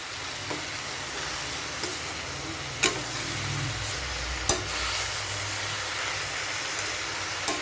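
Oyster mushrooms, about 300 grams, sautéing in a pan for biryani give a continuous sizzle with occasional sharp scrapes and knocks from stirring over a low background hum.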